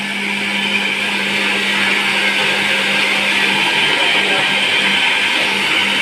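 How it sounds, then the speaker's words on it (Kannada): A kitchen mixer grinder runs loud and steady, grinding masala for an egg masala dish with a continuous high whirring roar that never lets up. "ಮಸಾಲ ಮಿಕ್ಸಿ ಹಾಕಾಗತ್ತಾನ"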